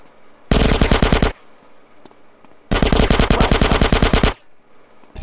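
Automatic gunfire from the video game GTA San Andreas comes in two loud, rapid machine-gun bursts, one short and one longer, separated by a brief quiet gap.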